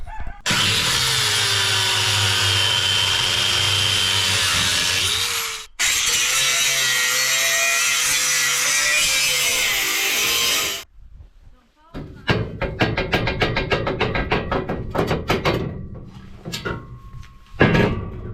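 Cut-off discs grind through a welded D-ring on a trailer in two long, loud continuous runs, broken by a brief pause, followed by clattering metal handling and tool knocks.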